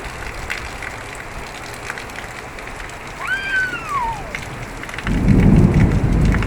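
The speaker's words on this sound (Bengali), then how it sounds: "কি মেঘে ডাকেন।" Steady rain hisses through a thunderstorm, joined near the end by a loud, deep rumble of thunder that swells and stays heavy, with a faint descending whistle midway.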